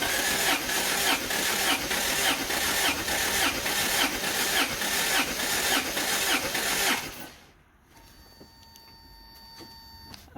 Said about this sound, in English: they will crank the engine. And it says in the instructions to do it, crank 8 cycles